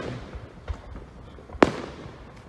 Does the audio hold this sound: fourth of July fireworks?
yes